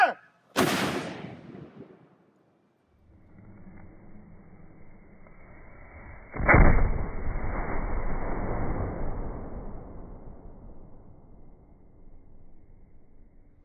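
An 18th-century siege mortar fires twice: a sharp close blast opens, then after a quiet gap a second heavy boom rolls out with a long fading rumble and echo across open ground.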